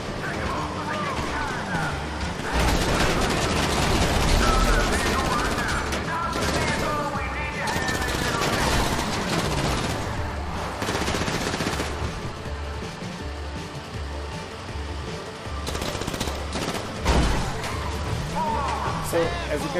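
Gunfire breaks out during the Pacific Standard bank heist finale in GTA 5 Online. Repeated loud volleys and rattling bursts come in irregular waves over a busy, dense mix, and voices can be heard at times.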